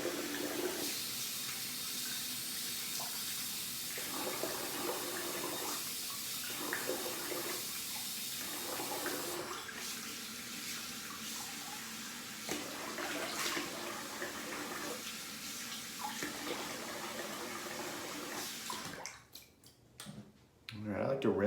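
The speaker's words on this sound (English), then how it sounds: "I'm gonna rinse the face and finish up." Tap water runs steadily while a man rinses his face after a double-edge razor shave, the broadband splash continuing under his occasional talk before stopping near the end.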